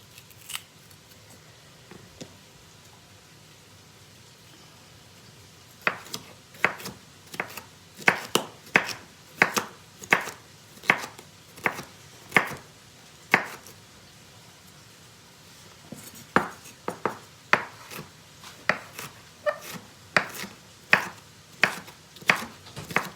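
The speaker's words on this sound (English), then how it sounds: "Always chop your green pepper on the inside." A knife chops a green pepper on a cutting board in sharp, close, fairly regular bursts of crisp cuts, with pauses between the runs of strokes.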